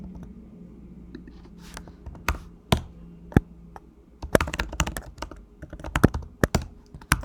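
Keystrokes on a computer keyboard, irregular bursts of close, crisp clicks, sparse at first then quicker and denser typing toward the end, with no talk.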